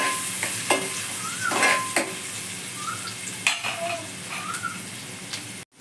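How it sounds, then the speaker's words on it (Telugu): Sliced onions fry in a pan for Mumbai-style pav bhaji, a soft continuous sizzle broken by several loud spatula scrapes and metallic clinks against the pan, close up with no speech. "ఆనియన్ ఇది కొంచెం ఉడకాలి."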